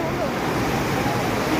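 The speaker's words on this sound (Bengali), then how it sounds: "চমৎকারভাবে ঢেউ আসে" Sea waves surge and wash along the beach at Cox's Bazar in a steady, loud, broadband roar that fills the whole clip.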